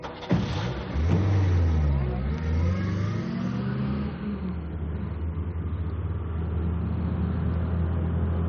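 A car starts and pulls away in a French radio mystery drama, the engine revving up loudly and then settling into a steady, sustained drone as it drives off.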